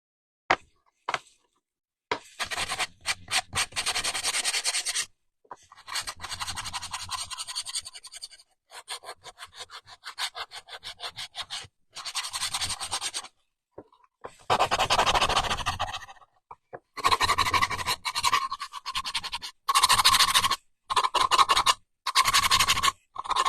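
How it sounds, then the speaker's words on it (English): Sanding paint on a small Dollar Tree craft house, heard as a long series of close, short scratchy strokes in bursts with brief pauses between them, no voices. "I don't want to sand over wet paint"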